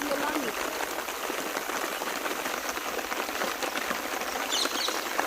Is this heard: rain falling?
yes